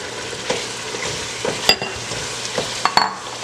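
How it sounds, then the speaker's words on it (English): Smoked sausages fry in a dark red jollof rice paste in a pan, giving a steady close sizzle broken by several sharp scrapes and clicks as a spoon stirs. "I'm gonna go ahead and add some smoked sausages."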